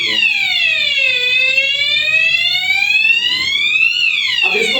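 A fire alarm panel switched into alarm mode sounds a loud, continuous electronic tone that sweeps down and then up in pitch, like a wailing siren, close and unbroken, with faint clicks near the end.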